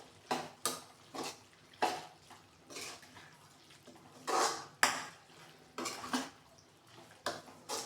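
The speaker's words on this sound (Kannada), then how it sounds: "ಕೊತ್ತಂಬರಿ ಹಾಕ್ಬಿಟ್ಟು ಎಲ್ಲ ಮಿಕ್ಸ್ ಮಾಡಬೇಕು ಕ್ಲೀನಾಗಿ" Clinking of a utensil against a metal pot in repeated, irregular strokes, with soft scraping between them, close by.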